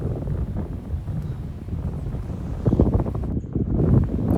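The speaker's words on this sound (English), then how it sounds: "it's a pretty windy day. You'll hear the wind a lot" Gusty wind on a golf course buffets the microphone, a rough low rumble that swells louder toward the end, with faint rustling in the background.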